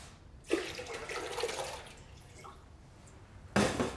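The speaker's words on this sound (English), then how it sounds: "First, I put some water in a pot." Water pours into a cooking pot in a close, splashy gush lasting about a second and a half. After a short pause, a second pour starts.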